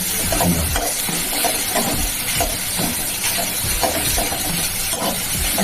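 Water poured into a hot pan of mixed vegetables for an okra-and-poppy-seed vegetarian dish sets off a steady loud hiss and steam, with scattered stirring scrapes throughout.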